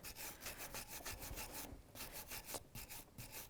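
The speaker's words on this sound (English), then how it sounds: "You got a wire wheel, you got a wire brush, whatever you can do, you need to get that grease and rust out of there on both sides." Wire brush scrubbing grease and rust off a Subaru Outback rear brake caliper bracket, a quiet run of rapid rhythmic rasping strokes, close by and with no talking.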